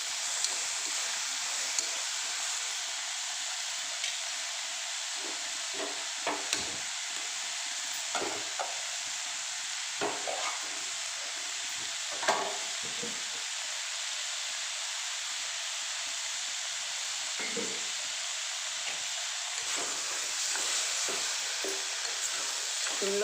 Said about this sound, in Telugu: 3 టమోటాలు కట్ చేసి పెట్టుకుని వీటిని కూడా వేయించేసుకోవాలి